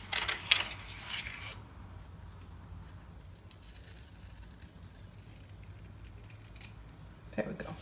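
Scissors snip paper leaves for a children's craft card, with a quick run of crisp cuts at the start, a long quiet stretch, then another short snip at the end.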